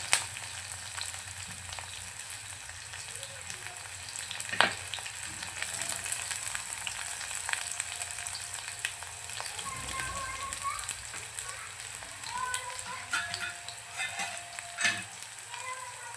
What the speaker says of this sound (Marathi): कांदा आपल्याला छान असतात परतून आहे तेलामध्ये